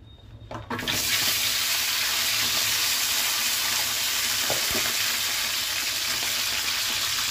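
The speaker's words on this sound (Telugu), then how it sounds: "పచ్చిమిర్చితో కాస్త వేగాలి." Green chilies frying in hot oil in a pan, a loud, steady hiss of sizzling that swells in during the first second and then holds evenly and close.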